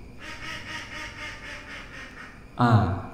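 A voice imitates a duck's quack, a short nasal burst near the end, loud and close against a steady hum of background noise.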